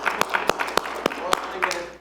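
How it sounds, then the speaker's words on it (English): A breakout-session audience at a sales conference gives a brief round of applause: a handful of scattered, separate claps over a couple of seconds, fairly close, with a voice in the background. "First of all, round of applause."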